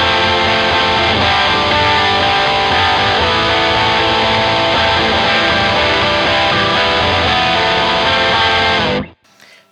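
An electric guitar runs through an extreme Big Muff fuzz distortion in a chorus tone, a loud, dense, saturated wall of sustained chords that rings steadily and then cuts off abruptly near the end.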